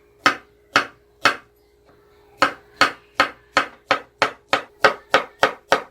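Knife chopping an onion into large quarters with a cross cut for braised beef short ribs, a run of sharp, close thuds on the board: three spaced strikes, a short pause, then a quicker steady series of about eleven.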